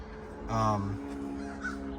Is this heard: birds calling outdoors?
yes